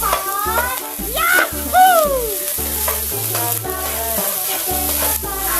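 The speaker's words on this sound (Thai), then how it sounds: "คนนะคะคนให้เข้ากันนะลูกนะ" Cooked rice being stir-fried for shrimp fried rice sizzles loudly and steadily in a hot pan, with clattering utensil strokes. Background music with a sliding whistle-like melody plays over it.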